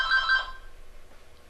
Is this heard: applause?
no